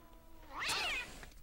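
A single drawn-out meow from a thick-furred gray cat, brief and fairly close, rising and falling in the middle of an otherwise quiet moment.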